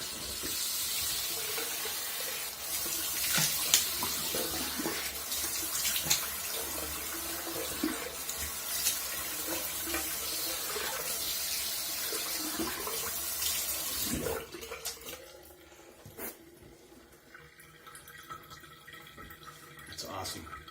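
Water gushes steadily from a tap for about fourteen seconds, then shuts off, leaving faint handling noises and quiet clatter.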